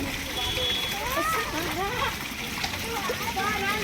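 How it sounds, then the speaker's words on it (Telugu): Water splashes and sloshes continuously as feet are washed, with voices, including a child's, chattering over it the whole time. "కాళ్ళు కడుక్కొని"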